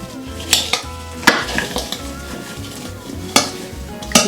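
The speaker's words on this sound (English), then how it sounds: "I'm mixing it." A spoon stirs apple and cinnamon hand pie filling in a bowl, with uneven scraping strokes and several sharp clinks against the bowl, close up and alone with no talk.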